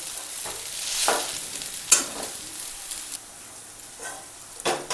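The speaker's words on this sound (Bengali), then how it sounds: "চাউমিনটা খুব ভালো করে ভাজা হয়ে গেছে" Chow mein stir-fried at home, with a spatula scraping and tossing noodles in a hot pan over a steady sizzle, including a few sharper clanks and scrapes, close and with no talking.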